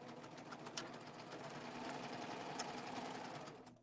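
A serger sewing machine runs steadily, chain stitching off the end of the fabric with a continuous close mechanical whir, then stops abruptly just before the end.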